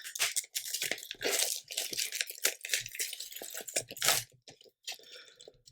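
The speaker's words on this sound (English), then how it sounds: "As we cut through the wrapping here" A blade slices through the plastic wrapping on a Harder & Steenbeck Infinity CR Plus two-in-one airbrush box, making close, crisp crinkling and tearing sounds in uneven bursts with no voice.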